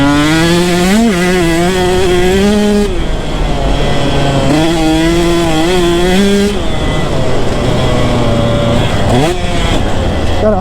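A well-jetted two-stroke dirt bike engine screams loud and close around a motocross track, revving up and down through repeated throttle surges and shifts with a raspy, high-pitched buzz.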